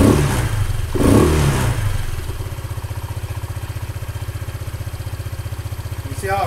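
A Honda ADV 150 scooter with its stock exhaust idles with a low, steady pulsing thrum after a couple of brief revs, close to the microphone, with one more blip at the end.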